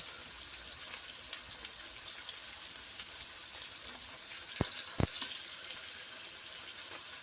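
Fish pieces cooking in curry gravy over a medium flame give a steady, even sizzle and bubbling hiss, with a couple of brief sharper taps near the end.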